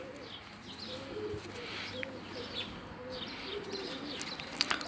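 Pet birds, including a blue budgerigar, call and coo indoors in soft repeated chirps, with a pair of adults and their chicks making steady overlapping twitters at moderate level throughout.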